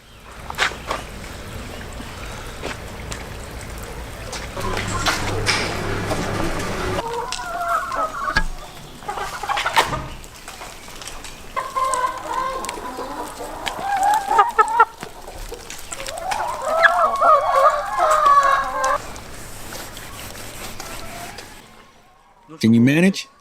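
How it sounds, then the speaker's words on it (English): Farm chickens cluck in repeated bursts and scattered calls throughout, mixed with speech and outdoor clatter, fairly near and of uneven loudness. "I need to feed the chickens."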